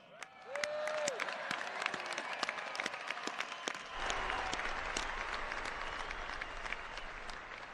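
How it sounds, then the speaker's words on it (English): Large crowd applauding the graduating class at an Air Force Academy commencement ceremony, a dense sustained wash of clapping that swells early, dips briefly and carries on to the end, with a faint whistle or cheer near the start. "how about everybody give a huge round of applause to the class of '21."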